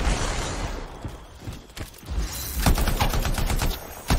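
Turret gunfire in the video game Anthem, loud rapid bursts of shots and blasts that crackle in irregular clusters, dense at first, thinning in the middle, then returning as sharp repeated reports near the end.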